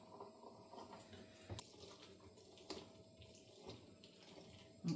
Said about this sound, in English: So I'm going to juice the lemons now.